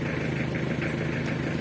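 A Mitsubishi L300 engine idling just after an overhaul, a steady, even mechanical rumble with a light ticking texture, close and continuous throughout with no talking.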